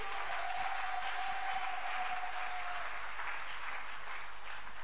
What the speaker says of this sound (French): Acclamons pour le Dieu de la RDC